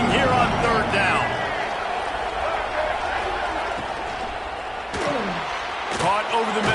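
A Boise State football stadium crowd roars on third down, a dense, steady wall of cheering with a few sharp knocks and shouts rising above it, heard beneath a commentator's voice.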